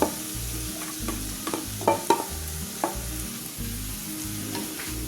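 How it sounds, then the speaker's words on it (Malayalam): Cooked potato being stirred with garam masala in a pan for beetroot cutlets, with steady low sizzling frying and repeated scraping, stirring strokes that come close and fairly loud, and no talk. "ഇനി ഇതെല്ലാം കൂടെ ഒന്ന് വഴറ്റിയെടുക്കാം."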